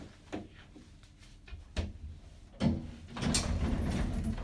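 Hotel elevator doors slide shut with a few soft knocks and a rolling closing rumble, followed by a louder thud and the steady hum of the car starting to move, heard close and fairly quiet.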